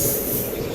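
A crowded passenger train pulls in at Channapatna station platform 3 in Karnataka with a loud, steady rumble and a continuous high squeal from the wheels, close by.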